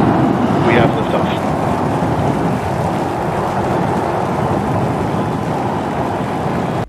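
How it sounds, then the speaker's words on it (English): Starship booster B14 with ship S33 lifting off at Starbase, producing a loud, continuous crackling rumble that holds steady for several seconds before cutting off abruptly. "today at Starbase, Starship B14 S33 launched"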